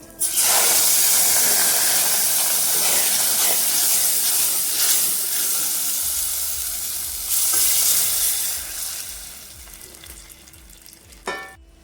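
Loud, sharp hissing and sizzling as moringa soup is poured into hot oil with cumin, gradually easing into a softer bubbling fry with a clink near the end.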